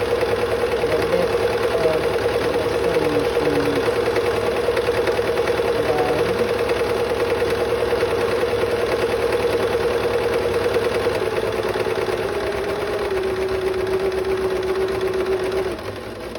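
A sewing machine stitches a nurse's scrub cap in one long steady run, its motor humming loud and close with a constant rapid needle chatter, easing slightly near the end before stopping.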